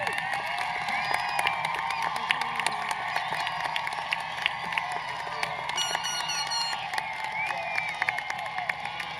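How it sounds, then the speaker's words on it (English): Graduating high school students at a commencement ceremony applaud their parents in the audience, a continuous dense wash of clapping and crowd noise with scattered cheers, steady and moderately loud throughout. "you give your parents a round of applause"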